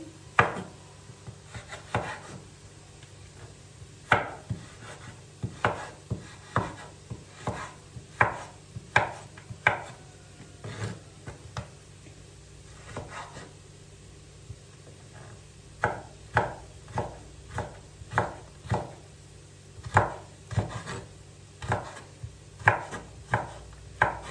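A knife slices a partly frozen chicken breast into thin strips on a cutting board, giving a steady run of close, crisp chops in irregular clusters with short pauses between them.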